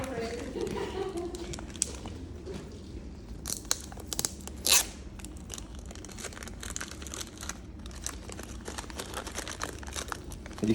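Wrapping paper on a gift is torn and crinkled open in bursts of ripping, close by, while several people chat and laugh throughout.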